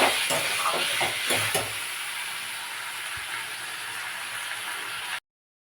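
Chicken pieces sauté in a pan with a broad, hissing sizzle, a few scraping stirs at the start, then steady frying until it cuts off abruptly.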